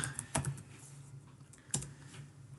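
Linux command being typed on a computer keyboard: a few sparse key clicks and taps at close range over a quiet background, with no talking.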